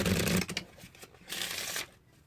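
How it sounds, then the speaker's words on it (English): A deck of playing cards is riffle shuffled up close in two quick bursts of rapid, fluttering clicks, the second one softer and followed by quiet. "And then we'll shuffle these together just like this."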